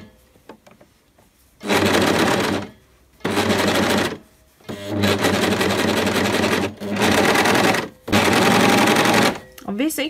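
A sewing machine stitches a trouser fly in loud rapid bursts, five runs separated by short pauses, close by, with quiet handling sounds between runs.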